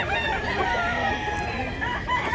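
A rooster, a two-year-old bullstag at a gamefowl market in Mantalungon, Barili, Cebu, crows loud and near in a sustained, strained call, with clucking fowl around it.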